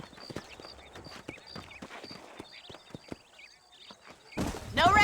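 Horse hooves clip-clop in the video game Red Dead Redemption, a string of distinct hoofbeats in an uneven walking rhythm, fairly close, ending as a louder burst of noise and a voice cut in.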